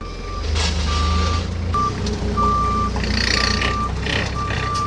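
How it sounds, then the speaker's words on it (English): A forklift backing up sounds a steady series of evenly spaced reversing beeps over a low idling engine rumble, loud and close. "I'm gonna lift the front up with a forklift"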